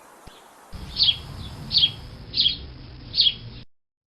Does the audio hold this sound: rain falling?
no